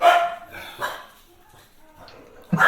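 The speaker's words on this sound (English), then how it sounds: "Sorry, dogs. Your dogs agree." Dogs bark in a few sharp bursts, near and moderately loud, with quiet gaps between the barks and a short yip at the end.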